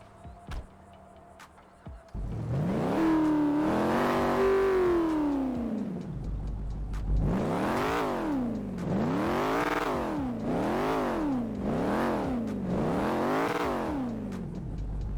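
A car engine in the video game GTA 5 with a real-life mod roars to life and holds one long rev, then revs again in five quick, rhythmic bursts, loud and close.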